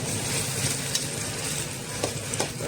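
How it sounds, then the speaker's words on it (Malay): Blended ingredients cooking in a hot pot while being stirred, a steady loud sizzle with occasional scraping stir strokes, close up and with no talk. "Okey, saya masukkan bahan yang saya blender tadi lah."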